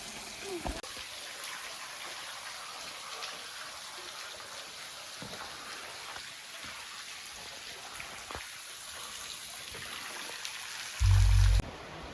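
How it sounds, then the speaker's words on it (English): Water cascading down rocks like a waterfall toward a reservoir in Roi Et, Thailand, a continuous close rushing wash with occasional sharper splashes and a brief thump near the end. "you can see the effect as it comes down the rocks like a waterfall onto the rocks down below and then down towards the reservoir in the bottom"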